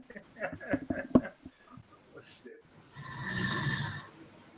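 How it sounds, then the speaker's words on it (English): A person snores in a rough, rasping stretch near the end, after a run of indistinct talk and noises. "I heard the snoring."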